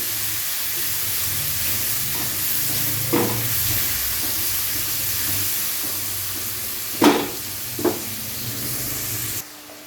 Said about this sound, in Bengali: এবারে পেঁয়াজটাকে হালকা বাদামি করে ভেজে নেব।